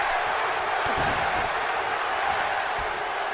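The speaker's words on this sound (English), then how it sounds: "The crowd behind both men right there." Steady arena crowd roar from the WWE 2K20 wrestling video game during a Rusev versus Pete Dunne match, a dense continuous wash of cheering with no voices standing out.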